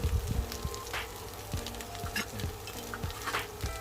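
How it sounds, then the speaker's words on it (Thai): Mushroom stems stir-fried in a pan for a Thai vegan dish give a steady sizzle, punctuated by repeated scraping clinks of a utensil against the pan at an irregular, unhurried pace, close and without talk. "เอา ขาเห็ดลงไปผัดได้เลยนะครับผม"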